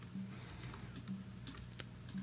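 Keyboard keys pressed on a computer during 3ds Max modeling work, a few light, quiet clicks scattered over a couple of seconds against a low steady hum.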